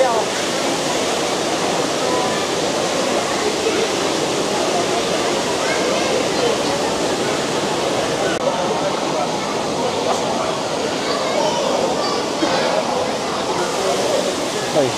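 Loud, steady rush of flowing and splashing water fills an indoor water park pool area at Aqualand Moravia in winter, a continuous wash of noise with no pauses.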